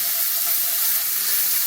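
Onion and garlic fry in a pan with a loud, close, steady steam-like hiss, dense and unbroken throughout.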